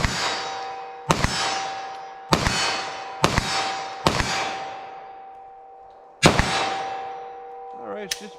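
Five 9mm handgun shots are fired at a steel target 25 yards away. Each sharp crack is followed by a ringing metallic clang that decays slowly, and the shots come at irregular intervals with a faint clatter at the end.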